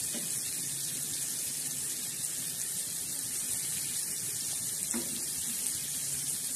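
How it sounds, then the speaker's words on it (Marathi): Hot oil poured over fish frying in a pan, a steady hiss and sizzle running throughout with a couple of faint pops, no talking. "हे तेल असं याच्यावर टाकायचं मच्छीवर"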